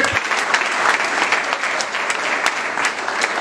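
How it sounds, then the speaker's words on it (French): An audience at an official public event in Kasaï Oriental applauds with dense, sustained clapping that carries at an even level from start to finish, with no talk over it. "le Président de la République, Fathi Beton, que je vous demande d'applaudir encore."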